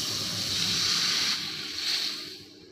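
Two tumblers of water pour steadily into a pan of sautéed ingredients for tamarind gravy, with a bright, hissing splash that tapers off after a couple of seconds.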